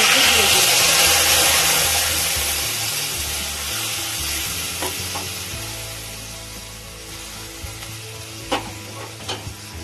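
Mung dal and drumstick pieces hitting hot oil with bay leaf, a loud sizzle that gradually settles into softer frying, with clinks of a utensil near the end and a voice talking over it.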